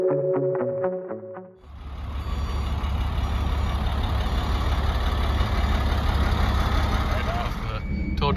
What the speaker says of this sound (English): The tow truck.